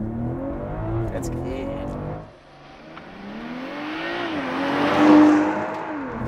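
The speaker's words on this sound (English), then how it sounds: "Those shifts are so hard in launch control." BMW M340i with all-wheel drive launching hard under launch control, engine rising with a sharp dip at a gear shift, then climbing again, heard from inside with people talking over it.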